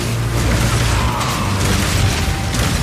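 Crossbow bolts fire in the video game Path of Exile 2 amid a dense, loud mix of mechanical clacks, bursts and booms, continuous with no pause.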